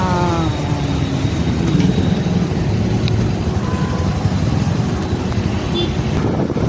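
Road traffic idles at a traffic signal, with a steady rumble of car and motorcycle engines nearby and a faint horn, and no voices.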